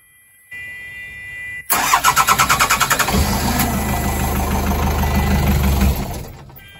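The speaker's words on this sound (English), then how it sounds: "Time will tell in a minute, we'll try the engine." A narrowboat diesel engine turns over with a rapid rhythmic cranking, fires up into a deep, steady chugging run, then cuts off near the end.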